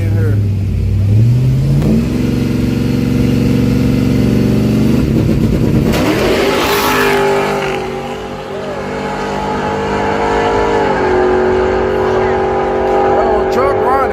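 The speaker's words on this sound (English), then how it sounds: "Oh, truck running." An engine runs loud and close at a drag strip, holding a steady tone before revving up and settling to a higher idle. A voice is heard speaking over it.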